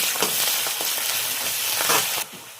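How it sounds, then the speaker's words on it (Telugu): Curry leaves, mint and coriander hit hot oil in a pan with a loud, continuous sizzle and crackle, with brief spits, dropping off sharply near the end. "ఒక రెమ్మ కలెమాకు, కొద్దిగా పుదీనా, కొత్తిమీర."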